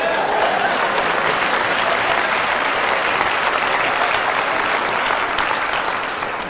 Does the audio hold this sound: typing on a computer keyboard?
no